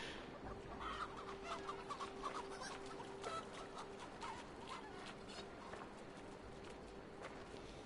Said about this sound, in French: Il court après les poulets.